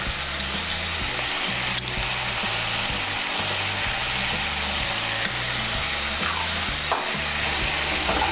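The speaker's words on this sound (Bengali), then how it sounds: "নুনটাকে মিশিয়ে নিয়ে মশলাটাকে আমি ভালো করে কষিয়ে নেব।" Spice masala with salt is stir-fried for a prawn curry: a continuous sizzle with a regular scraping rhythm as the spoon works the pan, close and steady throughout without speech.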